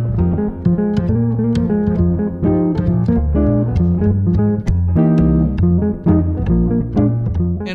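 Guitar plays the A section melody of a jazz tune as a steady run of single notes over a full, ringing chordal backdrop, close and clear, with no talking.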